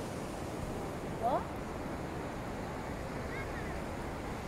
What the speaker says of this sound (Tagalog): Grabe nga alon.